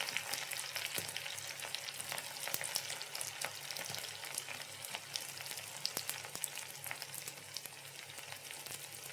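Onion and dried red chillies frying in a pan, a steady crackling sizzle with scattered sharp pops, fairly quiet and close, no voices.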